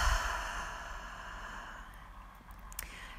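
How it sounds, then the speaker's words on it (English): A single long audible exhale during a beginners yoga breathing exercise, close and soft, fading steadily over a few seconds with a faint catch near the end. "exhale, make it audible"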